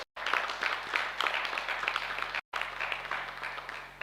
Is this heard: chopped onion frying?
no